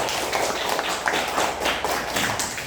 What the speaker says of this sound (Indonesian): tepuk tangan untuk kelompok hidrofit